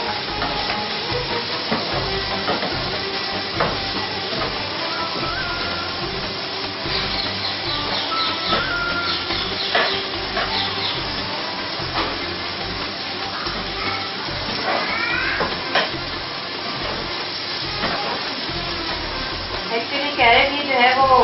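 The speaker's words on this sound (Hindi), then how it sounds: "हम थोड़ा सा फ्राई कर लेंगे" Vegetables, including carrot for a spaghetti dish, fry in a pan on a morning TV cooking show, giving a steady, continuous sizzling hiss beneath someone talking throughout.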